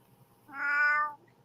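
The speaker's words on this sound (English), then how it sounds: "that's your cat." A cat gives one clear, drawn-out meow lasting about half a second, close and fairly loud against a quiet indoor room, with no talking around it.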